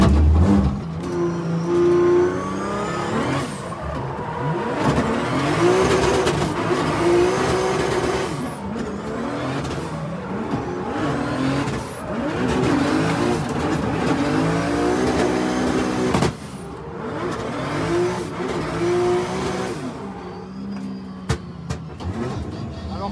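A drift car engine revs hard and roars near, with sharp exhaust pops and crackles breaking through between gear changes.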